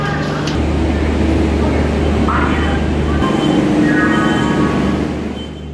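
Loud, steady rumble of the moving Howrah–Puri Shatabdi Express passenger train heard from inside a carriage, with a continuous low hum and rattle throughout.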